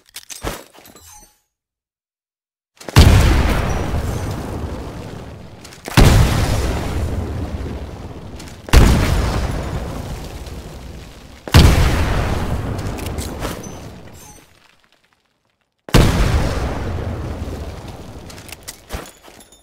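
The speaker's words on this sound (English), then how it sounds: "Throw a grenade into each of the windows." Five grenade explosions from the video game Titanfall, each a loud sudden boom followed by a decaying rumble, spaced a few seconds apart with silence between blasts.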